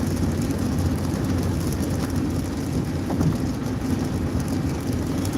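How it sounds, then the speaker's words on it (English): Heavy rain pours down during a drive home, a dense, steady hiss of downpour drumming on the vehicle, continuous and fairly loud throughout with no voices. "I didn't expect it to be raining this hard today. I mean, I knew it was supposed to rain, but it's really coming down."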